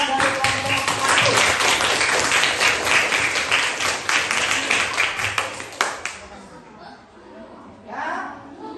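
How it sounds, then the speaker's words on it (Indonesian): An audience in a classroom coaching session applauds a group's performance with lively, dense clapping for several seconds. The clapping then fades out, leaving light chatter and chuckles. "Saya berikan aplaus untuk penampilan dari kelompok 1"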